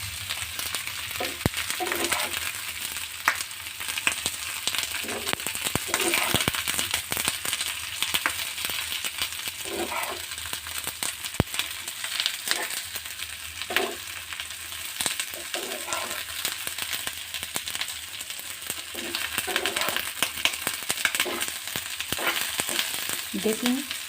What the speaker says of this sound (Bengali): আবার একটু খুন্তি দিয়ে নেড়ে নেব।